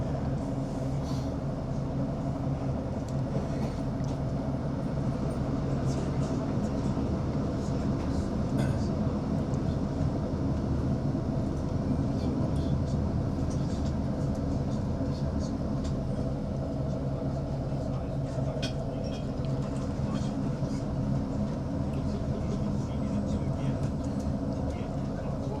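A ScotRail Class 156 diesel train running between stations on the Dumfries–Glasgow Central line, heard from inside as a continuous rolling rumble with faint clinks and rattles of the carriage throughout.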